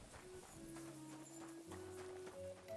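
Horse hooves clip-clop in a video game town over a steady bed of background music, with a faint whinny, moderately quiet and continuous throughout.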